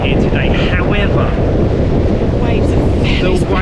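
Wind buffets the microphone hard over a constant loud roar of crashing waves on the Javea coast as a storm rolls in, a continuous rumbling wash with no break.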